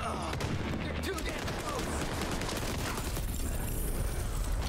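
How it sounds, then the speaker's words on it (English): Dense, continuous gunfire from a firefight in the shooter game The Division 2, a steady wash of overlapping shots with no clear gaps, with a voice speaking over it. "Stop shooting me!"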